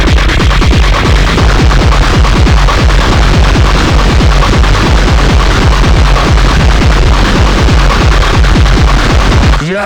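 Herbs and Stones Solid Felt pedal pushed into heavy distortion, a loud, saturated, buzzing drone with rapid throbbing pulses running continuously and alone until an abrupt cut at the end.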